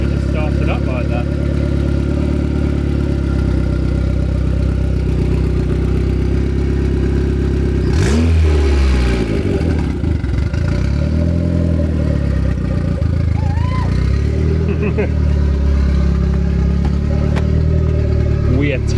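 A turbocharged Honda B18C4 engine in a Civic EF runs steadily at close range after its first start, with a brief rise in revs partway through and people talking over the engine note.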